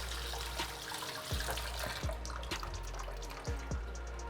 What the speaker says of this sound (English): So I'm just washing this to make sure the sand is off it.